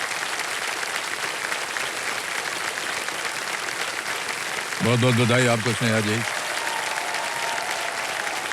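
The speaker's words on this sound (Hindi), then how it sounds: "और जोरदार तालियां बजती रहें के लिए।" A studio audience on a TV quiz show applauds a contestant in a steady, loud wash of clapping. A host's voice briefly congratulates her over it partway through.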